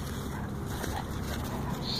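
Two dogs roughhousing during play make soft whimpering yips and whines, close by and continuous over steady background noise.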